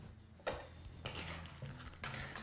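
Coffee and sugar being stirred together with chocolate for chocolate mousse in a bowl, giving a close, steady clatter of a utensil against the dish with a few sharper knocks.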